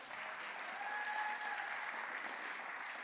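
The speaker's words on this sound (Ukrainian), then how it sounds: "Ще раз, ці оплески для вас, народ." Soft applause from a crowd at a youth camp gathering, a steady, fairly distant wash of clapping with a faint whistle-like tone over it.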